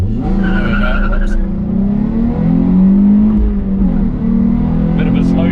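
A Nissan 350Z accelerating hard, its engine note rising steadily and loud close up, with a slow gear shift near the end as the pitch drops and climbs again.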